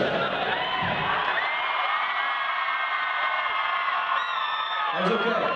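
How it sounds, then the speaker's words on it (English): A live concert crowd at a show in Sydney cheering and yelling together, a sustained, loud roar of many voices holding steady with shouts rising near the end. "I'm going to step to the side, and you guys are going to cheer like fuck"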